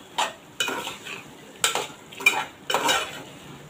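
Ivy gourd (tondli) sautéed and stirred in a pan after being covered with salt, a spatula scraping in several separate bursts over a soft background sizzle.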